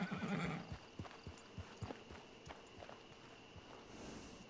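A wild mare in a horseback-riding video game whinnies near the start, then hooves clip-clop at a walking pace, fairly faint against low ambient background.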